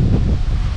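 Strong wind buffeting the microphone outdoors by a church, a loud, constant low roar with no break.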